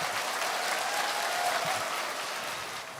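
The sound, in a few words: audience applause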